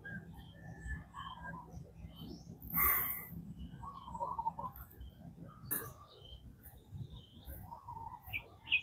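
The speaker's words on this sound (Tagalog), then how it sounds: "Mga ibon po yan doon." Several birds call from trees, scattered high chirps and tweets popping up at intervals over a quiet outdoor background, some bursts sharper and closer, others faint and distant, with a voice briefly audible.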